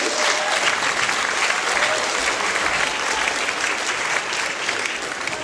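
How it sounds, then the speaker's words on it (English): Audience applause for a panel being welcomed to the stage at a film festival discussion, a steady, dense clapping from a sizeable crowd that runs the full length without pause. "A round of applause."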